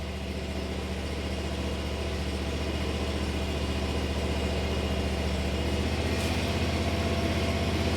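A Kubota mower engine runs at a steady idle nearby, a continuous low rumbling drone with even throbbing that holds unchanged throughout, no speech.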